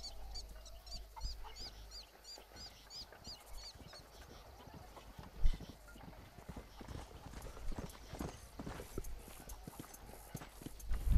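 Horse hooves clip-clop steadily in Red Dead Redemption as a tired horse trots a few steps. Fowl cluck faintly in the background, and a commentator speaks now and then over the hoofbeats.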